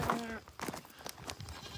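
Goats on a farm bleat loudly and close at the start, one clear wavering call, followed by scattered shuffling, faint calls and background movement.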